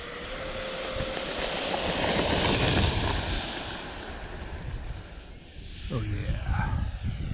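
An E-flite F-16 Thunderbird RC jet with an electric ducted fan roars and whines steadily as it flies past at an outdoor field. The pitch shifts as it passes, and someone speaks briefly near the end.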